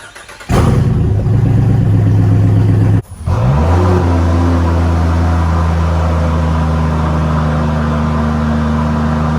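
A lifted Land Rover Defender on oversized tires runs its engine with a loud, steady drone. The sound cuts out briefly near the three-second mark, then resumes as an even, continuous mid-pitched rumble, with no talking.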